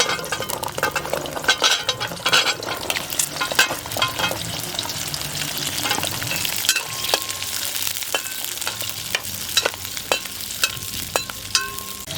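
Shallots sizzle and fry steadily in hot oil for a duck curry, with sharp clinks and stirring taps of a utensil against the pan sounding up close throughout.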